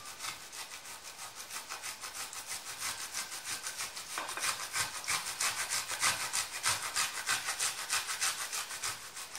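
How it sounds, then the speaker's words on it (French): Cachir, a cured meat, is rubbed across a grater in quick, regular scraping strokes. The rasping is close and rhythmic and grows louder and faster in the second half. "je vais râper du cachir"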